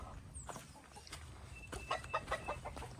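Chickens clucking in a yard beside dog kennels, several short close calls coming in a loose series over steady outdoor background noise.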